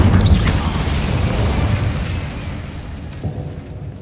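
Incendio fire spell cast in Hogwarts Legacy, a loud, roaring burst of flame that starts at full force and slowly fades over a few seconds, with a small thump near the end.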